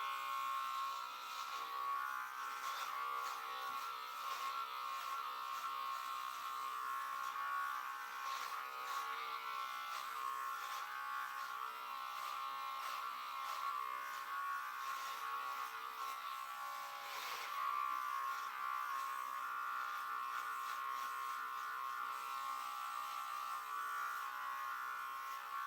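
Electric hair clippers fading and trimming the front of a man's hair, a steady close buzzing hum that runs continuously with slight changes in pitch as the blades move, no voices.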